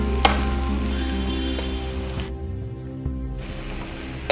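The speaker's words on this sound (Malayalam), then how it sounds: "ഈ സവാള നന്നായി വഴണ്ടു വരണം." Onions sauté in a pan with a steady sizzle over a droning, mechanical-sounding background hum, with a couple of light knocks and a brief drop in the hiss midway.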